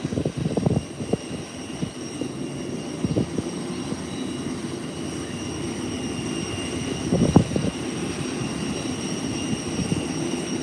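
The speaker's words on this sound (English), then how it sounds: "Gulfstream is making its 180-degree turn" A Gulfstream business jet turns on an airport runway, giving off a steady distant whine and rumble with a high engine tone. A brief swell in the noise stands out near the end.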